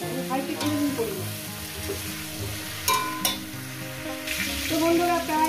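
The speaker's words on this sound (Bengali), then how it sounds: "প্রায় আমি 10 মিনিট ধরে ভেজে নিয়েছি আলু ফুলকপিটাকে" Potatoes and cauliflower fry over medium gas in a pan with a soft, continuous sizzle, while a utensil stirs and scrapes now and then beneath background music.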